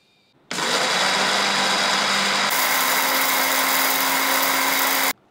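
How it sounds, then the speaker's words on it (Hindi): An electric mixer grinder whirs loudly as it grinds dry-roasted pickle spices in its jar, starting abruptly, shifting pitch slightly partway through as the load changes, and cutting off sharply after about four and a half seconds; no speech. "उसके बाद हम मिक्सी के जार में डाल के इसको ग्राइंड करके मसाला तैयार कर लेंगे"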